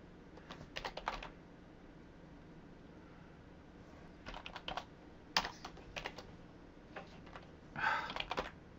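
Quick clusters of keystrokes on a computer keyboard come in short bursts separated by pauses, crisp clicking close by in a quiet room with no talking.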